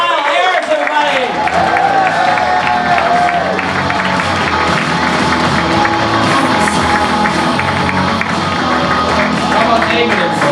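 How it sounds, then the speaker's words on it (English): A comedy club crowd applauds and cheers as a stand-up comic takes the stage, with loud, steady clapping and whoops filling the room and voices mixed in throughout. "Want to put those applause together right now."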